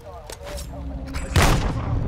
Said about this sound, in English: They didn't hear that gunshot,